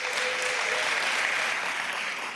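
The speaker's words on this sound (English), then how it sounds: "yes, give them applause" An audience in a large hall at a governor's State of the State address claps steadily, a dense and even wash of applause throughout.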